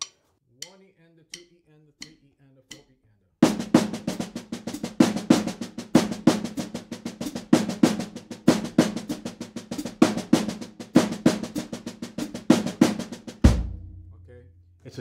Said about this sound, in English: it's very tabla, very Indian sounding already, so it's pretty syncopated. So the first way, of course, on the snare like that, then on the toms.